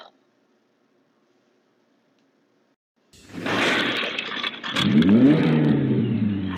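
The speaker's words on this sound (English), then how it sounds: "That is the sound of a car driving into the front doors and windows of BT cabinets." After a few seconds of silence, a car bursts through the front doors and windows of a cabinet showroom in a loud, sustained crash of breaking glass and debris, with the engine revving through the noise.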